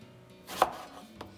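A single knife chop on a cutting board, cutting vegetables, followed by a fainter second tap, in a quiet room.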